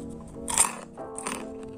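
Someone bites into a crispy fried banana fritter, giving two close, crackly crunches about half a second apart.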